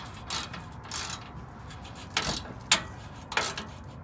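Ratcheting wrench bursts loosening the skid plate bolts underneath a 2011 Toyota FJ Cruiser, several short clicking runs spaced apart with a sharp metallic tick between them, close and fairly loud over a steady background hiss.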